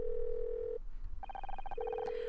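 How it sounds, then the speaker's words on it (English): A telephone rings in the Murder By Numbers video game: a quick run of bright, trilling bursts breaks into a steady electronic tone, loud and close, with no talking over it. "Phone rings."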